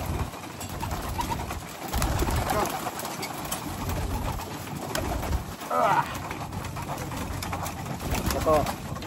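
Pigeons in a breeder's loft coo softly in low, repeated bursts beneath a steady background hum, while a person talks nearby.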